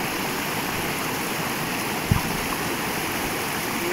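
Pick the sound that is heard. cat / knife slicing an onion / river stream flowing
river stream flowing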